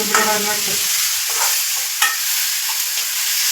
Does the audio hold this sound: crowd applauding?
no